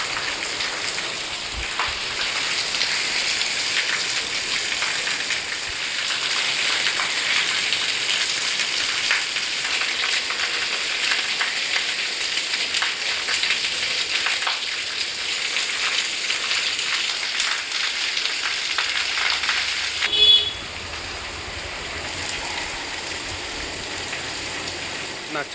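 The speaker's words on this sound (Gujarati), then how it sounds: "અત્યારે પાછો વરસાદ ફૂલ થયો" Heavy monsoon rain pours steadily and close by, a dense continuous hiss of drops on surfaces that holds for the whole stretch, with a brief knock near the end and no voices.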